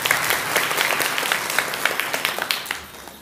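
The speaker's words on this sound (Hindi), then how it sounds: "आज सुबह किसने अभ्यास किया वाह ताली बजा भाई के लिए" A gathered audience claps for a man at a spiritual talk, a brisk patter of many hands with sharper individual claps standing out, tapering off slightly near the end.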